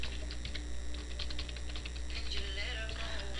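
Keys clatter quickly and faintly in irregular bursts as a password is typed on a computer keyboard, set against a steady electrical hum.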